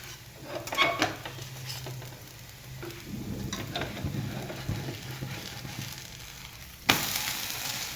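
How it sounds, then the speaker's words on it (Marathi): Thalipeeth flatbread sizzling in a pan just after being flipped: a steady soft frying hiss with a few utensil clicks and a sharp knock near the end. "थालीपीठ आपण आता पलटी मारून घेऊयाला"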